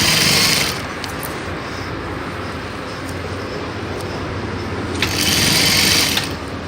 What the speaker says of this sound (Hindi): इसको आप इसको हटा के इसको परफेक्ट 1 सेंटी की सिलाई मारते चले जाइए।